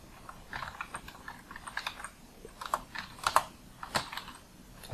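Keys clatter on a computer keyboard as a folder name is typed, a quiet run of irregular taps with a few sharper strokes, no voice over them.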